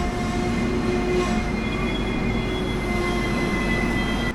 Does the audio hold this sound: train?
yes